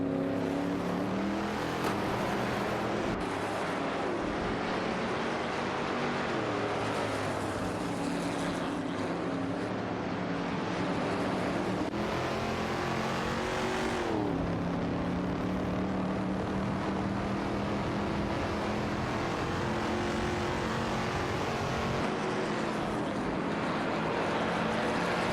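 Chevrolet Impala SS67 and Corvette C3 race cars in a video game drone and rev continuously, with overlapping engine tones rising and falling at a steady loud level.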